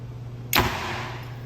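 A target arrow loosed from a bow through paper: one sharp broadband snap followed by a short decaying whoosh, close and fairly loud over a steady low hum.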